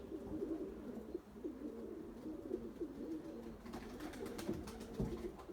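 A pigeon coos in low, rolling repeated calls throughout, steady and fairly close, with a few faint sharper sounds near the end and no voices.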